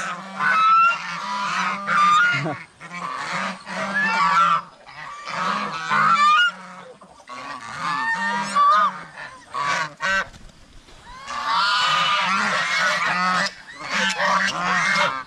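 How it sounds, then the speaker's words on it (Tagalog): Several geese honk loudly and repeatedly in noisy overlapping bursts, close by, with brief pauses between clamorous outbursts. "Nakagulo yung mga gansa, oh."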